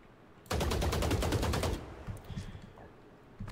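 Vandal rifle in the video game Valorant firing a fast, loud burst of about a dozen evenly spaced shots lasting just over a second, then trailing off into faint clatter and low game ambience.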